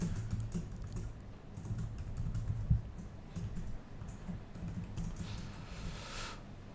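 Typing on a computer keyboard at a desk, a steady patter of close key clicks running throughout with no talk.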